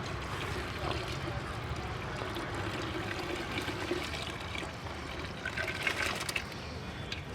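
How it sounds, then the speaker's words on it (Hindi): Jaggery water poured slowly into a cow dung mixture for organic liquid manure, a soft continuous trickle and splash, fairly faint beneath someone talking outdoors. "और आस्ता आस्ता करके इसमें जो गुड़ का पानी मैं डालूँगा"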